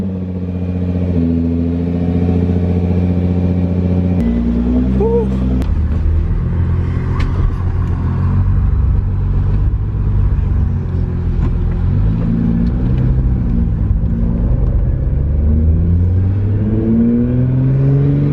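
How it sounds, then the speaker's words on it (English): A silver Nissan GT-R with carbon fibre parts revs its engine on a test drive, a loud, steady rumble whose pitch climbs and falls through gear changes for the whole stretch, with no talking. "I'm about to test drive my dream car, a freaking Nissan GTR Silver"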